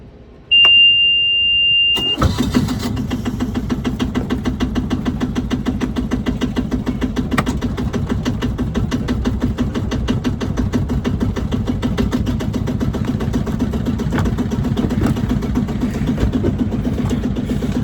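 A sailboat's inboard engine, started with a booster, beeps for a moment before cranking and catching, then settles into a loud, steady rhythmic idle that runs on close by.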